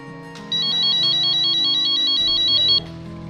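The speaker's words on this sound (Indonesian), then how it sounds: "ini akan bisa terdeteksi dan akan memberikan sinyal baik berupa suara maupun berupa getar" An adaptive walking cane's proximity sensor sounds an alert, a rapid high-pitched electronic beeping pattern lasting about two seconds, loud and close over a soft musical background.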